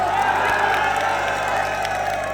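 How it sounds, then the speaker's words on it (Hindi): Dense crowd noise at a political rally for Imran Khan, steady cheering and applause mixed with scattered whoops, loud and continuous throughout without a break. "जरा हाथ उठा के तालियों की गूंज पे बताइए इमरान खान से कितना प्यार करते हैं आप"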